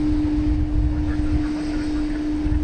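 An MD-11 jet at DFW airport at night gives off a continuous engine roar with a steady hum running through it, fairly loud and unbroken, with no other sounds.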